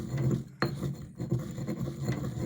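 Material being ground into powder by hand as soil preparation for planting a fig tree, a quiet, close, steady rasping and scraping, repeated gritty strokes with no talking.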